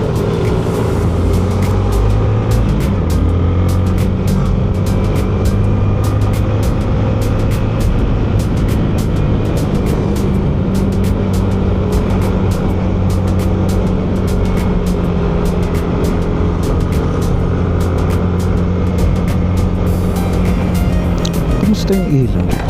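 Heavy road traffic heard from inside a vehicle, a loud, constant rumble of engines with an occasional passing vehicle, while people talk over it.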